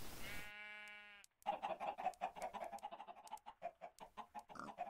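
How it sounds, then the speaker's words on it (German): Chickens cluck in Minecraft, a quick run of short, evenly repeating clucks following a brief sustained tone and a pause, fairly quiet and with no talk over them. "Und hier sind Hühner."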